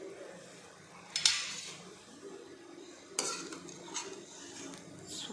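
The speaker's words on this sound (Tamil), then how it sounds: "இப்போ உப்புமாவை கிண்டி பார்ப்போம்" Vermicelli upma stirred in a pan, with a few distinct metal spoon scrapes and clinks against the pan over a quiet background sizzle.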